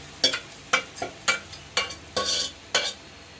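Spoon stirring tomatoes into fish curry frying in a wide pan: seven or eight quick scraping strokes in an uneven rhythm over soft sizzling, close and clear with no talking.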